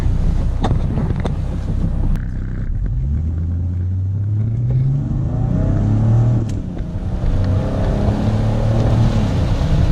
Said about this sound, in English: once this light goes green, I should be able to get a pretty good pull from this spot